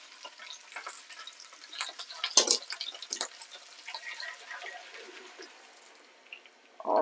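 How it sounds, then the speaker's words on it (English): Cider poured into a pan of cooking chicken, bursts of sizzling and splashing liquid with crackles that fade to a quieter simmer, close and fairly soft. "So we're going to put the cider on."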